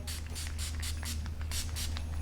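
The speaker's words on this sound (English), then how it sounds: "Finishing off with some Farsali spray." Farsali makeup setting spray misted onto a face, about seven quick hissing pump bursts in a steady rhythm, close and clear over a low background hum.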